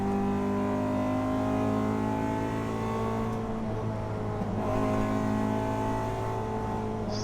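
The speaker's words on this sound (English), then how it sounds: "Really good sounding car. Looks like it's running a little rich." A JDM Honda Integra Type R on a closed-course touge run in Mexico, engine running a little rich, gives a steady, loud, close drone with strong layered harmonics that dip briefly midway before holding again.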